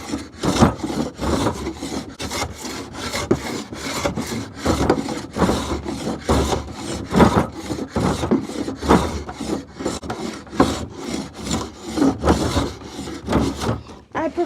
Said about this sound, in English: lot of wood I've shaven off.